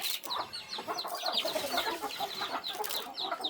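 Several chickens cluck and chirp continuously at close range around a rural Lao-style village farmyard, with busy overlapping calls and no talking.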